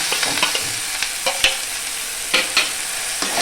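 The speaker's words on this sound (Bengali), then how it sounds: "আদা আর লবণ ভালো করে আমি এইভাবে কষে একটু ঢাকা দিয়েই কষবো" Ginger paste and salt stir-fried in a pan while making shukto, a steady sizzle broken by scraping spatula strokes every few moments, close and fairly loud with no talk.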